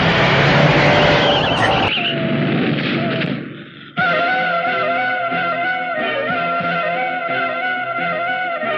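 A car in a film skids to a sudden halt, a loud, harsh engine roar and tire screech that cuts off midway, followed by a droning, music-like tonal backdrop, close and dominant with no talk.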